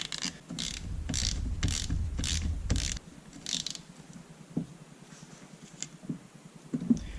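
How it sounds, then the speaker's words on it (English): A ratchet turns to thread the drain bolt back into a 2001 CR250 engine, making a quick run of close, crisp clicking strokes for about three seconds, followed by fainter scattered clicks and small metallic taps. "Okay, time to thread this drain bolt back in."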